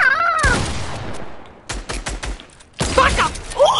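Rapid bursts of video game gunfire in a deathrun match, sharp repeated shots clustered in quick volleys with brief gaps, loud and close, mixed with voice-like game chatter at the start.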